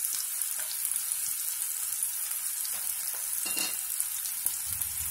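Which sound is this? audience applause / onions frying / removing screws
onions frying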